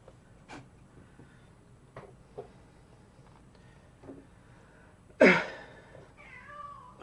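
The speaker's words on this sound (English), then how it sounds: "Oh dear, I hear my cat." A house cat meows once, loud and close, after several seconds of quiet room tone with a few faint clicks and taps.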